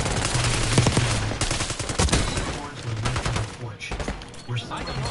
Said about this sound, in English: I am whipping out the SMG.